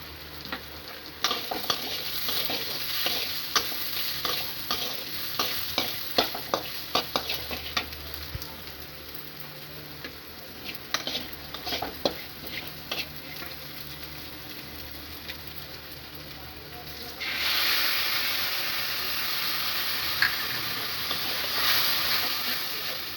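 Spices for murighonto, a Bengali rice-and-fish-head dish, fry and sizzle in a pan, with a steady hiss under irregular scraping stirs, rising to a louder, brighter sizzle near the end.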